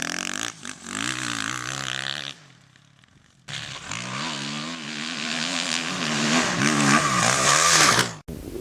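A 2010 Husqvarna TC450 motocross bike with KYB front suspension is ridden hard, its single-cylinder engine revving up and down loudly and close, with a short quieter gap where the throttle drops before it roars again.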